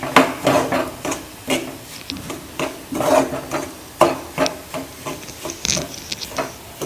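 A spoon scrapes and stirs a semolina burfi mixture with almond powder in a pan, making loud, close rasping strokes in a steady rhythm of about two per second.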